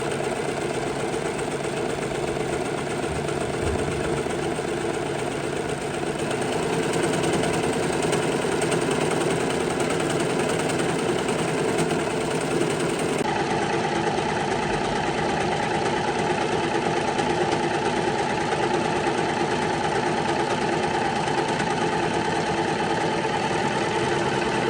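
A sewing machine stitches jeans while a small trimming knife cuts the excess fabric, making a continuous, loud, close mechanical whir that holds steady for the whole stretch. Nobody speaks.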